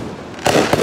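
Fourth of July fireworks burst at night, a loud close boom after a quiet moment, followed by crackling and a second pop.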